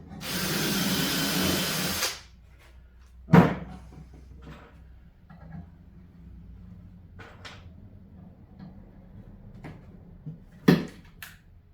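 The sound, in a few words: drilling pilot holes through particle board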